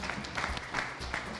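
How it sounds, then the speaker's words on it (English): An audience at a malaria event in Siaya, Kenya, applauding the head of mission, a brief burst of scattered clapping heard at moderate distance. "Can you clap for him?"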